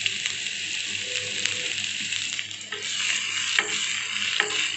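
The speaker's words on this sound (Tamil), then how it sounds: "சீரகம் லைட்டாக பொரிஞ்ச உடனே நம்ம எடுத்து வச்சுருக்க ஆனியன்ஸை சேர்த்துடலாம்" Onions hit hot oil where cumin seeds have just spluttered, for a mixed vegetable oothapam. The result is a steady, close crackling sizzle broken by a few spatula scrapes, with no voices.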